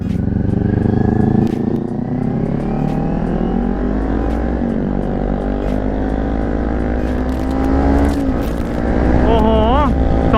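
A Kawasaki Ninja 400 twin-cylinder motorcycle engine droning loudly while being ridden, its pitch rising and shifting steadily through gears, with wind rush and a voice talking over it.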